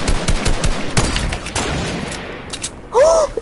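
Sniper rifle fire in a multiplayer shooter video game, a few sharp shots and bursts of gunfire in quick succession, followed by a short tonal game sound near the end.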